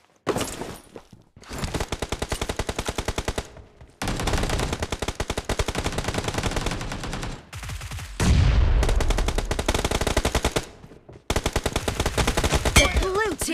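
UMP submachine gun fire in a shooter video game: loud, sustained rapid-fire bursts rattling across the whole clip, broken by brief pauses between volleys, with no talk over it.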